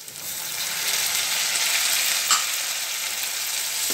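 Chopped onion and tomato sauté in a hot pan for carrot rice, giving a steady, bright frying sizzle up close that holds evenly for a few seconds with a brief spatter near the middle, and nobody speaks.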